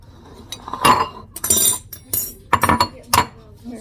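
A utensil stirs seasoning salt into a mixture in a bowl, giving a series of bright clinks and scraping rattles against the dish in uneven bursts, close by, with faint talk in the background.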